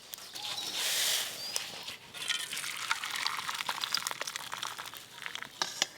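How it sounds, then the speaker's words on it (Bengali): Boiled tea liquor spiced with cloves and cardamom poured through a strainer, a brief gush of liquid followed by trickling, dripping and light metallic clinks, close and alone. "চায়ের লিকার বেশ ভালো করে ফুটে গেল, এবার ছেঁকে নেব।"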